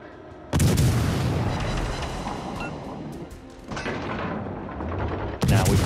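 Heavy naval gunfire from warships in World of Warships Legends, with loud booming salvos at the start and end and a rumbling, crackling barrage of battle noise in between.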